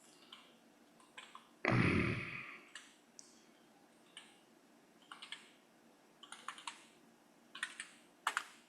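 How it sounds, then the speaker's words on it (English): Soft, scattered keyboard typing in short bursts, with one loud thump early on, in an otherwise quiet room. "Yeah, loud keyboard."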